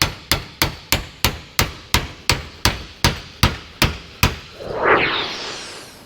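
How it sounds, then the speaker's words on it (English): Twelve sharp metallic hammer strikes on a chisel against metal in a steady rhythm, close and loud, followed by a brief rushing scrape or hiss. "so we making do with a hammer and chisel."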